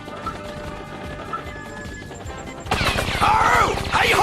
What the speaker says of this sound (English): Who are they shooting at?